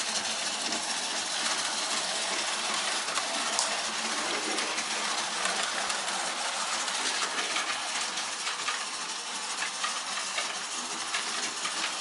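Steady broadband whirring and hiss of a small model train running continuously, with faint rhythmic clicks over the track throughout.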